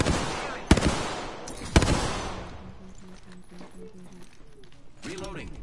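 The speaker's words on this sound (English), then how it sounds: "Opening fire on the enemy." Two sharp, loud gunshots ring out in a PS4 shooter, each trailing into a decaying echo, followed by quieter mechanical clicks and game sounds, with a voice speaking near the end.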